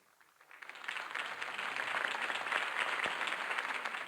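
A crowd in The Batman Telltale game applauds after a campaign speech, the clapping swelling quickly from near silence into a steady, dense wash that holds at moderate volume.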